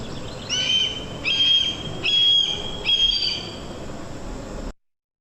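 A red-tailed hawk gives its high-pitched shriek call, four short piercing screams in quick succession over a steady outdoor background hiss.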